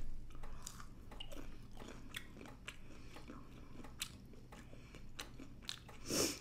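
Crunchy frozen onion petals being bitten and chewed close up, a series of crisp crunches and smacking chews at an irregular pace, fairly quiet, with a louder crunch near the end.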